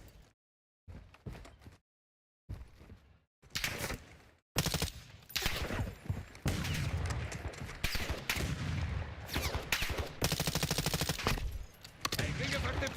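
Gunfire in the Black Ops 6 video game comes in bursts, with sparse shots at first building into dense, loud automatic fire and rattling volleys, while a player talks over parts of it.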